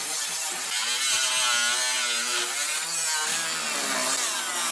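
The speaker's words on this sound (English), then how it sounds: "So I'm still getting rid of a large portion of the rocker panel by cutting this like this" A power saw cuts through a badly rusted rocker panel on a Mercury Sable, a loud, steady buzzing rasp close by with a wavering pitch, running continuously with no talk before stopping abruptly at the end.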